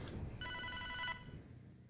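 A single ring of a telephone in the Hotline Miami 2 video game, a piercing electronic trill lasting under a second over a low murmur of background noise, close and clear without any speech.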